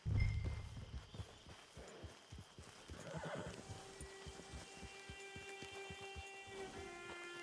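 A horse in the video game Red Dead Online whinnies loudly at the start, followed by a steady clip-clop of hooves walking on and on.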